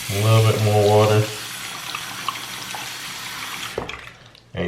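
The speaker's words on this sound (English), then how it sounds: "A little bit more water." Tap water runs steadily from a faucet over wave brushes held face down in a sink, a continuous hiss following a brief stretch of speech at the start, with a short clatter near the end.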